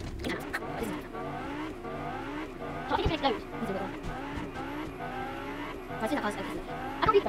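The Whiplash car in Fortnite, a video game, drives with a steady engine drone and repeated revving rises and tire squeals, moderately loud, with a player's voice chatting over it.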